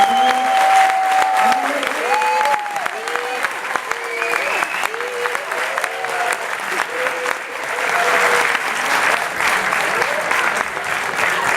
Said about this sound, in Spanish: Un fortísimo aplauso para